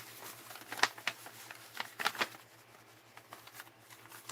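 Scissors cut through wallpaper in a quiet room, making a series of crisp papery snips and rustles, close and faint, with irregular spacing.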